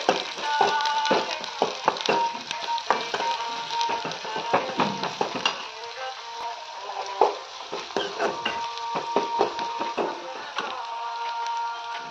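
Onion, coriander, garlic and chili frying in a pan while being stirred, a steady sizzle with frequent scraping and clinking spoon taps against the pan, close and continuous, with a little talk.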